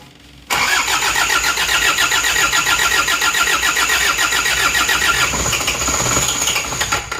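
Rebuilt Isuzu Panther engine, previously run out of oil, cranked by the starter: a short quiet moment, then it catches and keeps running loud and close with a rough, rapid, steady idle and no talking.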